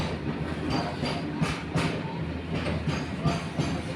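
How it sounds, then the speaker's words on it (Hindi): A long goods train rolls past at Chandil Junction in Jharkhand, with steady rumbling and repeated rhythmic clickety-clack of wheels over rail joints, fairly close and loud. "बहुत लंबी ट्रेन है।"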